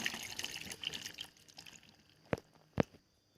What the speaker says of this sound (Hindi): ऊपर से और पानी डाल देते हैं।